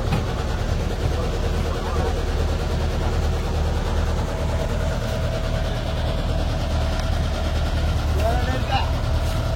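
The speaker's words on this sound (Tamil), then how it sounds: "நம்ம போட்டோட இன்ஜின் சவுண்ட கேளுங்க" A steady, loud fishing boat engine drones continuously with a deep rumbling throb, constant throughout with no pauses.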